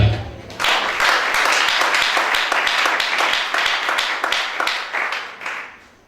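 A congregation at a church sermon breaks into loud, sustained clapping, steady and rhythmic for several seconds before tapering off.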